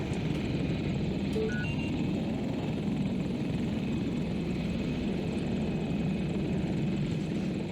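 Helicopter in Battlefield 2042 flying nearby, a steady broadband rotor and engine drone that holds at an even level throughout with no talk.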